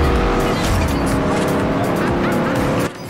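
Dodge Challenger racing a Lamborghini Diablo in the Forza Horizon game, engine roaring loudly with tires squealing through a skid, close and continuous before cutting off abruptly at the end.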